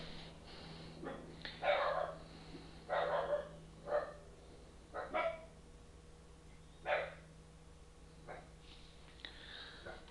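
Several dogs bark in short, scattered bursts at a distance, with quiet gaps between barks.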